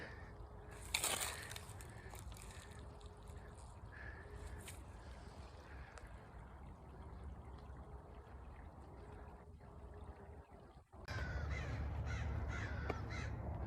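Crows caw a few times from a distance over a quiet outdoor background, with a louder burst of ambient noise near the end.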